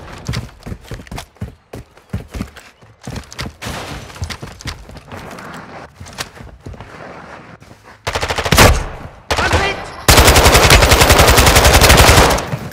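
Gunfire in Call of Duty: Modern Warfare 2 DMZ mode comes as rapid sharp bursts of shots, sporadic at first and then building into loud, dense sustained automatic fire toward the end.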